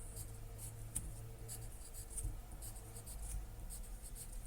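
A marker or chalk scratches and taps on a board while the structure of an NH3 molecule is drawn. The strokes come in short, irregular bursts at close range.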